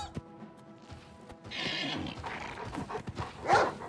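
A horse whinnies in the video game Oblivion Remastered, a single rising neigh near the end, loud and close, following scuffling and movement sounds during a fight.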